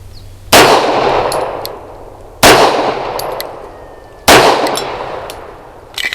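Three loud, sharp pistol shots from a Bersa B1911 firing cheap Russian Tula ammunition, evenly spaced about two seconds apart, each with a ringing decay, and a fourth report starting at the very end.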